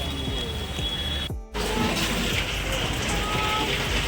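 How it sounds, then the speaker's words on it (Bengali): Heavy rain pours down at Vishnughat in a constant loud wash, briefly cut off for a moment before resuming. "টানা বৃষ্টি হচ্ছে"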